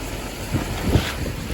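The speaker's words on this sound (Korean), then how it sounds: "바람이 너무 많이 불어요." Strong wind in the rain on a street in Sydney, roaring and buffeting the microphone in loud gusts with a brief swell near the end.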